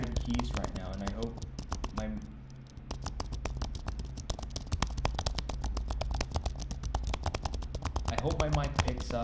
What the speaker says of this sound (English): This is how the keyboard sounds when you type it